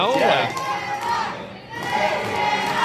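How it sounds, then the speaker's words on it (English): A wrestling crowd at a River Valley Championship match cheers and roars loudly throughout, swelling at the start and again near the end, with scattered shouts rising from the arena. "The crowd definitively behind Fantana"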